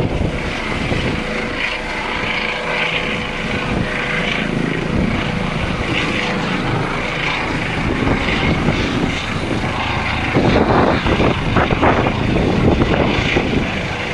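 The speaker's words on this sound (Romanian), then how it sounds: "Bărbatul rănit a fost transportat cu un elicopter smurt la Spitalul Floreasca din capitală." A SMURD rescue helicopter flies nearby, a steady loud rotor and engine drone holding throughout and swelling slightly toward the end, with no talk.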